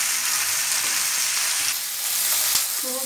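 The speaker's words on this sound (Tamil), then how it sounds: "5 நிமிஷம் வரைக்கும் நல்லா வதக்கணும்." Ivy gourd (kovakkai) masala sautés in a pan, giving a steady, close sizzle and frying crackle with a few soft stirring scrapes and clinks.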